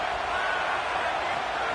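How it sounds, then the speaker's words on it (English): Steady wash of crowd noise filling a football stadium, a continuous, loud, even roar of many voices with no distinct individual sounds. "This crowd bringing the energy and noise early."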